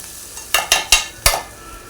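Mutton keema being stirred and fried in a pan at home, four sharp scraping stirs in quick succession over a faint sizzle, close and alone.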